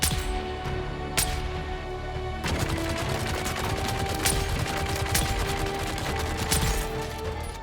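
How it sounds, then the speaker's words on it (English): Spit dart rifle fire in Dune Awakening, a run of sharp, loud shots cracking at irregular intervals over a dense, continuous game soundscape, with no talk. "our spit dart rifle is the perfect option, letting us pick off enemies from the nearby mountains"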